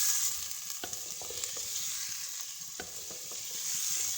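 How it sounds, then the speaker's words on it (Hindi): Mutton and potato pieces sizzle steadily in a pan, with soft stirring scrapes and clicks over the constant frying hiss. "अब हम इसको अच्छे तरीके से फ्राई करेंगे, भूनेंगे"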